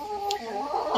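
Free-range village chickens cluck close by, with warbling, overlapping calls that continue steadily.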